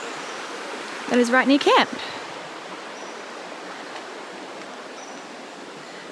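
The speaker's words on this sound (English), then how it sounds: "this is the beautiful little creek" Small creek near a campsite in Cairns, Australia, in cassowary territory, gives a steady broadband rush of flowing water throughout, with someone speaking briefly near the start.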